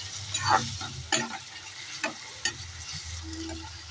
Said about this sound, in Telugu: ఆనియన్ వేగిన తర్వాత టమాటా వేసుకోవాలి టమాటా కూడా బాగా వేయించుకోవాలి